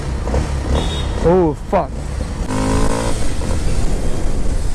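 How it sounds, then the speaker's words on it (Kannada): A Kawasaki KLX 230 motorcycle starts and revs, its engine rising into a steady, loud buzzing note after a man's excited exclamations. "ಸೊ ಗಾಡಿ ಸ್ಟಾರ್ಟ್ ಮಾಡ್ತಾ ಇದ್ದೀನಿ ಇವಾಗ"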